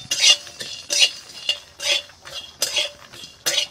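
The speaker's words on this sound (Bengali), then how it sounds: "একসাথে একটুখানি শুকনো কড়াই নেড়ে নেব" Poppy seeds, melon seeds and makhana are stirred in a dry wok, giving a close series of about six rhythmic scraping, rattling sweeps at roughly half-second intervals, with no sizzle.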